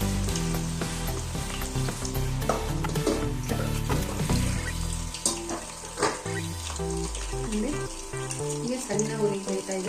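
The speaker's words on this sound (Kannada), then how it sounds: "ಎಣ್ಣೆ ಕಾದ ತಕ್ಷಣ ಸಣ್ಣ ಫ್ಲೇಮಲ್ಲಿ ಈ ರೀತಿ 5-6 ಪೀಸ್ ಹಾಕಿ" Chicken lollipop pieces fry in hot oil over a low flame, a steady close sizzle running under background music throughout.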